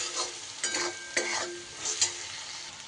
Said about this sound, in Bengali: মশলাগুলো দিয়ে খুব ভালো করে এবার নাড়িয়ে চাড়িয়ে একটু কষিয়ে নেব।